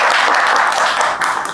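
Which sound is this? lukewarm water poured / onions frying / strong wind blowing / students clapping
students clapping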